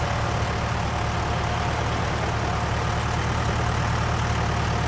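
A Huerlimann tractor engine in Farming Simulator 19 runs at a steady, loud idle, its low rumbling drone constant throughout with no pauses or changes in pitch.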